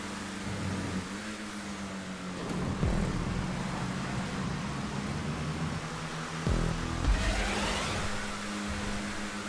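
Hotring race cars roar around a track in the video game GTA 5 Online, engines droning steadily with occasional revving swells and a faster car passing, loud and without talk.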